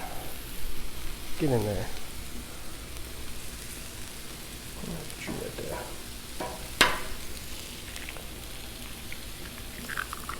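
Eggs sizzle on a Blackstone griddle, a soft, steady frying hiss broken by a few clicks and the scrape of a utensil, with someone speaking briefly over it.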